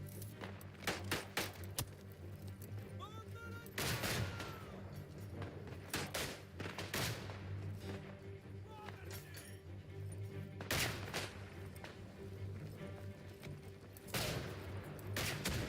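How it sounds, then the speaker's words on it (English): Mortar strikes in the WWI shooter Isonzo: several heavy, sharp explosive blasts land at irregular intervals, some close and loud. Between them, distant gunfire and battlefield rumble carry on in the background. "Bring me down some mortar strike."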